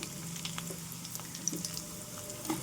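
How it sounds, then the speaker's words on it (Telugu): Mustard seeds and cut dried red chillies sizzling in hot oil for a tempering, a steady soft frying hiss with scattered small pops and crackles, close and fairly quiet. "చక్కగా చిటపట్లాడేలాగా వీటిని ఫ్రై చేసుకోవాలి."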